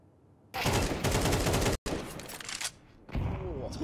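Rapid bursts of gunfire from a Counter-Strike match on the Nuke map, loud and dense, with a brief gap before more shots and a short final volley.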